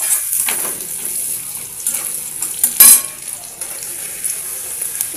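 Onion sizzles lightly in a hot pan alongside carrots and spices for a homemade spicy egg pasta: a steady, fairly close frying hiss with a few clinks and scrapes from stirring, one sharp clatter partway through.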